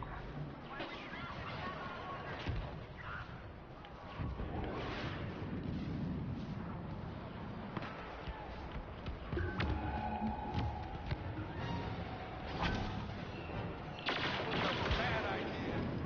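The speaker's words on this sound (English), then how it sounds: "Rebel airstrike incoming." Rebel airstrike explosions and blaster fire in a Star Wars battlefront shooter game, a dense continuous barrage of booms and shots across the whole stretch, with a voice talking over the action.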